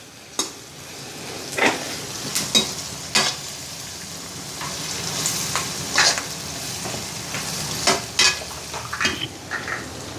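Onions frying in a pan with turmeric, dried red chillies and curry leaves for a ridge gourd fry, sizzling steadily while a utensil stirs and scrapes at irregular intervals, close and continuous.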